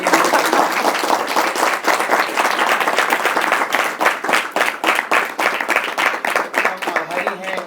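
An audience applauds after a Hindi talk on musical ethics and Indian tradition, giving loud, dense clapping that settles into rhythmic unison clapping toward the end.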